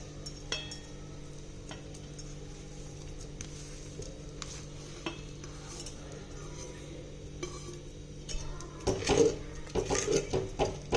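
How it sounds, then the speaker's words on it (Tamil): Jaggery goes into a pot of moong dal and sago payasam and is stirred, making soft clinks and scrapes that grow into louder, busier stirring and metal clatter toward the end, with no talking. "இப்போ வந்து நம்ம வெல்லத்தை சேர்த்துடலாம்."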